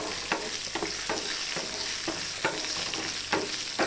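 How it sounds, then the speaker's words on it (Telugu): Tomatoes and green chillies sizzle and fry in a pan for a tomato chilli chutney, a steady close crackle with repeated scraping stirs of a spoon, no voices. "ఇవి అన్ని దీంట్లో వేసి అలా ఫ్రై చేయాలి"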